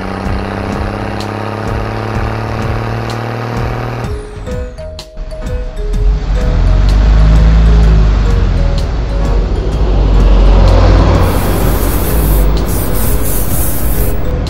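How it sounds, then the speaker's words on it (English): A garbage truck rumbles loudly with a deep low engine roar and hissing spray-like bursts, preceded by a steady mechanical hum, all close and dominant with no talk. "Garbage truck."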